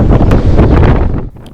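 Severe gale wind in the high 40s knots with 50-knot gusts buffeting a sailboat in Norway, a loud continuous broadband roar with gusty surges that drop off near the end, close and alone without talk.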